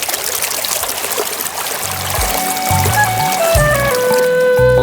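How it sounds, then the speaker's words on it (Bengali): A magical river in a cartoon fairy tale flows with a steady, close trickling rush of water. Bright musical tones chime in over it in the second half. "এই তো মায়াবী নদী, এর ওপারেই ঋষির আশ্রম"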